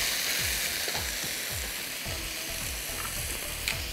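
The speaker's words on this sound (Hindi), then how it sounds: "टर्न करते रहिएगा हर तरफ से ये सियर हो जाए हाई हीट पे तेल में" Strips of beef sear in hot oil over high heat, a steady loud sizzle broken by regular scraping strokes as the pieces are turned, with no talking.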